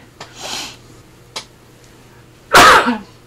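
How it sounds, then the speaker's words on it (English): A couple of sharp breaths lead into one loud, close sneeze near the end, after a short quiet pause. "So, I'm going to sneeze"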